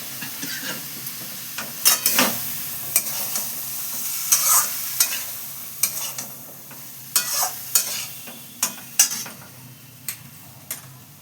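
Chopped, washed vegetables tip into a hot pan for a pea dal and sizzle as a spoon stirs them, with repeated sharp scraping clicks against the pan over a steady low frying hiss, close and fairly loud.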